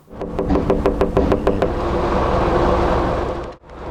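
Someone knocks lightly on a fourth-floor window: a quick run of small, evenly spaced taps over a steady background rumble.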